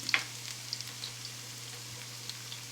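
Food sizzling and frying steadily in a pan while marinara sauce is made, a quiet, even crackle with occasional small pops, close by and without talk.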